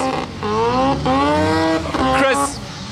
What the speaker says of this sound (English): It's very loud here. Noisy rotaries.